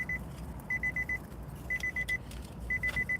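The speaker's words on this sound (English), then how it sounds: "Sorry for the annoyance of the beeping door, you guys." A door alarm beeps in short, evenly spaced bursts of three or four tones, repeating in groups at a moderate, fairly quiet level over a faint background hum.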